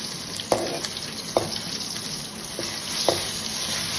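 Garlic frying in plenty of oil in a pan for Tamil tomato thokku, a steady soft sizzle with a few sharp stirring clicks from a spoon against the pan, no voices.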